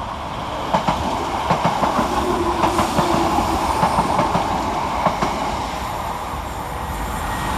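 A Northern class 319 electric train rolls through Eccles station close by, a steady roar broken by regular clickety-clack wheel beats across the rail joints, loud throughout with no talking.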